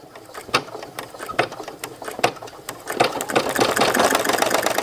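An embroidery machine stitching patches in a bulk order, heard as a fast mechanical clatter of needle strokes with ticking, ratcheting pulses that grow denser and louder toward the end, close by, with no talk.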